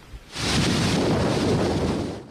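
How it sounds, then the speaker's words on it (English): Hurricane Irma's wind and rain roar in a dense, sustained wall of noise after a brief quieter start, with deep rumbling gusts buffeting the microphone and heavy rain hissing throughout. "This wall of wind and rain is only getting worse tonight"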